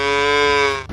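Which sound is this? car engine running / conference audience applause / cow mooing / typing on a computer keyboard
cow mooing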